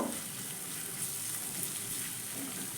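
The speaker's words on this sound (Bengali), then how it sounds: "এবার পেঁয়াজ আর আদাটাকে হালকা একটু ভেজে নেব" Onion and ginger lightly frying in a pan over a medium flame, giving a soft, steady sizzle that stays even and fairly quiet throughout, with no voices.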